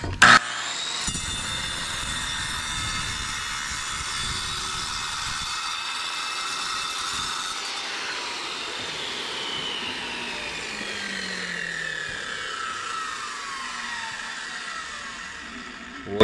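A handheld power saw grinds steadily through a concrete block, cutting along its side down to the saw's base plate, a continuous close whining buzz with a slowly falling pitch and a brief bump at the start.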